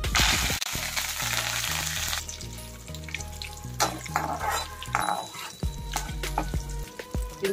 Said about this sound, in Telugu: ఇప్పుడు కరివేపాకు వేపుకున్నాం.